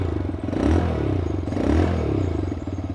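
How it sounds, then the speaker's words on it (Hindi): A kick-started Bajaj Pulsar 125 motorcycle idles, its exhaust note a steady, close, low-pitched burble that swells in two brief surges over a few seconds, with no talking. "इधर एग्जॉस्ट नोट सुनिएगा"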